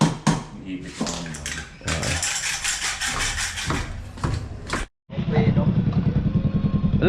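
A motorcycle engine runs nearby with a steady, throbbing idle, mixed with clatter and background voices.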